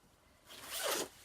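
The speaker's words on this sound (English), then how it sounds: "Zip it up, okay?" A life jacket being zipped up on an aeroplane, one quick rising zip pull lasting about half a second, close and clear with no talk over it.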